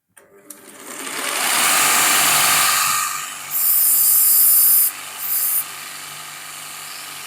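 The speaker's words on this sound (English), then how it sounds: "Here's a bit of a close-up of the old multi-tool linishing attachment that came on this machine." An old Abbott & Ashby machine runs with its multi-tool linishing attachment, giving a steady, loud whirring grind that builds up, holds, and shifts slightly in pitch as work is pressed against it.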